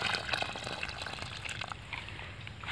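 Water is poured into a ring-shaped pit dug around a lemon tree, a steady close gushing and splashing that fills the ground for a few seconds.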